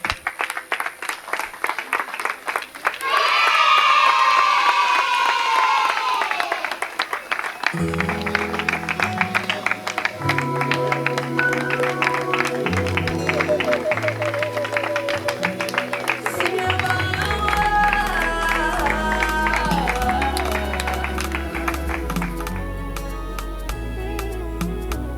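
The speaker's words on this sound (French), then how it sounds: "Applaudissons pour l'autorité." A short round of applause breaks out at a civil wedding ceremony, loud and dense for a few seconds. Music then takes over and keeps playing.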